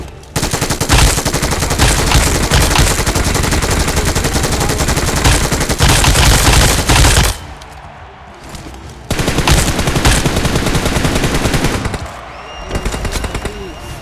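Dense automatic gunfire rattles through the PUBG match on the Erangel map in long loud bursts, drops to a short lull, then resumes in rapid volleys, with players talking over the shooting.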